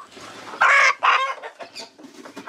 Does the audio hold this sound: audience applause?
no